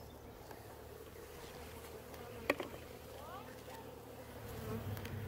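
Honey bees buzz around hive frames during beekeeping work: a faint, steady, close hum with a few brief louder passes near the frames and one sharp knock.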